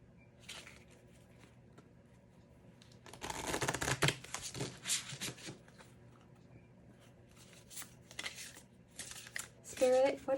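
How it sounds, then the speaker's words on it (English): Elemental oracle cards shuffled in bursts of papery riffling and rustling, soft at first, busier and louder midway and again near the end, with a voice speaking quietly. "I'm going to go ahead and pull some elemental oracle cards for you guys."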